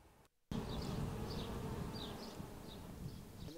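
Bees from ten hives at a small apiary buzz steadily in a dense, continuous drone after a brief quiet gap at the start, with individual insects whining past.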